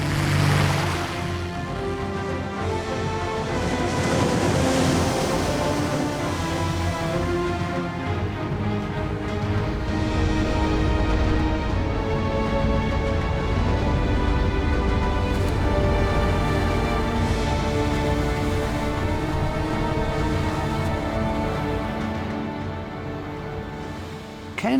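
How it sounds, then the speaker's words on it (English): Huge ocean waves over 15 meters high break and roll in a dense, continuous roar of surf, loud and close, swelling and easing without any talk. "With waves over 15 meters, 5 stories high"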